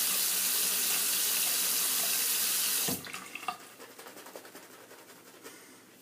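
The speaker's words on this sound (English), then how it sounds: "I'm just going to wet my face here before I lather up." A bathroom tap runs in a steady close gush of water into a sink to wet the face before a shave, then shuts off, leaving soft drips and splashes.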